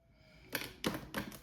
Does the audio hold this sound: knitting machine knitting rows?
no